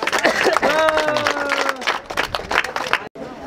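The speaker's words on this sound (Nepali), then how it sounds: "ल एकपल्ट सबैले थपडी बजाइदिनुहोस्" An audience claps together at a live show in Rupandehi, Nepal, where a man cuts hair while hanging from a tree. The brisk, steady clapping runs throughout, with voices calling out over it.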